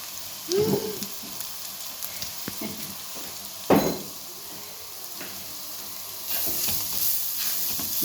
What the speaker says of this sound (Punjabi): ਮਸਾਲਾ ਪਾਉਣ ਤੋਂ ਬਾਅਦ ਫਿਰ ਅਸੀਂ 1 ਮਿੰਟ ਇਹਨੂੰ ਹੋਰ ਭੁੰਨਿਆ